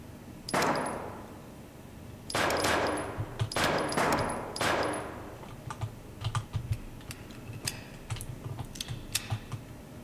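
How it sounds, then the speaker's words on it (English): Video game gunfire in the dark horror prototype Deppart comes as sharp, close bursts of rapid shots, a few separate volleys early, then scattered quieter clacks and pops later on. "I am shooting to kill everything."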